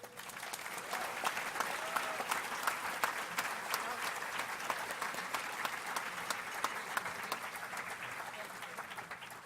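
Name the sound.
audience applause, women clapping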